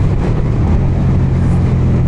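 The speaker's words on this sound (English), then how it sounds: "the V-twin sound, it sounds incredible" A deep, steady V-twin engine rumble from a 2023 Suzuki SV650 motorcycle drones throughout, loud and close, with no voices over it.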